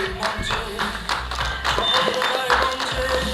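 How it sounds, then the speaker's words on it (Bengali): Claps patter throughout as the audience applauds at a discussion meeting and theatre evening at Sisir Mancha, while voices talk over the clapping. "জোরে করতালি"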